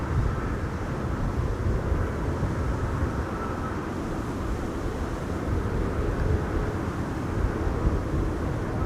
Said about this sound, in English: Embraer 190 arriving from Nice also seems to be coming this way